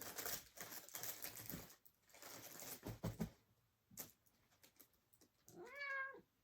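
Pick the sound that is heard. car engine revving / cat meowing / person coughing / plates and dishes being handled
cat meowing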